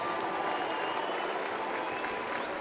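Stadium crowd at a spring training baseball game applauding steadily for Raul Ibanez, with some boos mixed into the sustained, fairly distant roar.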